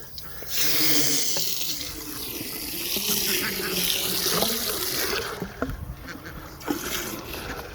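Water splashes steadily from a running tap into a container for several seconds, with quacking ducks in the background and chickens nearby.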